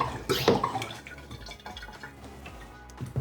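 Filtered water pours out of a LifeSaver jerrycan at full flow under pump pressure, a close, steady splashing and trickling stream with a louder burst early on, then a softer continuous running.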